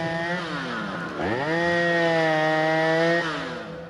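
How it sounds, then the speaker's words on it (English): At an Oregon State Beavers college football game, a chainsaw revs loudly and continuously for several seconds, its engine pitch dropping, then surging up and holding steady before easing off. "And here comes that chainsaw, and if the Beavers ever needed a stop, it's right now."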